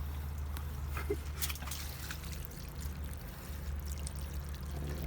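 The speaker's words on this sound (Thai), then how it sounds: "หล่อน้ำหน่อยนะครับ น้ำฉีดหน่อยนะครับ" Water poured or sprayed onto taro plants, Colocasia esculenta 'Mojito', with a soft trickling and splashing stream over a low steady background hum, close and fairly quiet, with no talk.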